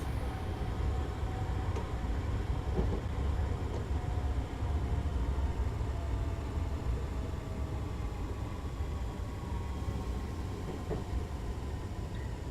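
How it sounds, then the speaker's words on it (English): Steady, loud rushing wind and rumble outside a moving Class 314 electric train, a continuous broadband roar with faint rail tones underneath and no voices. "we've got the lovely wind sounds from outside the train."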